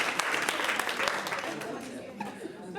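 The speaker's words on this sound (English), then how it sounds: "That deserves a round of applause." Brief round of applause from a group, with chuckles and laughter mixed in, tapering off as voices take over.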